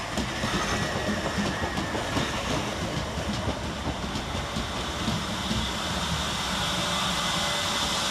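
A Southern Railway Class 377 electric unit, 377133, arrives at Angmering station on the Brighton to Littlehampton service, with a steady, loud rolling rumble and wheel clatter that fills the whole stretch with no voices.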